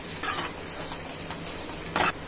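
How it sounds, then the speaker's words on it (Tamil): Food being stirred and sautéed in oil in a pan over a medium flame, with a steady low sizzle and a few short scraping bursts from the spoon against the pan. "இப்போ நல்லா வதக்கி விட்டுக்கிடலாம்"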